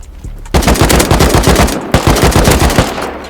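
Rapid automatic gunfire in the survival game Rust, two loud close bursts of dense rhythmic shots separated by a brief gap, with no voices.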